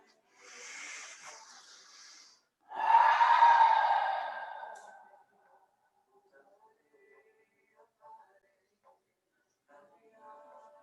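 Slow, deep breathing during a seated yoga twist: a soft exhale around one second, then a louder, longer breath near three seconds, fading into near-silence with faint small sounds.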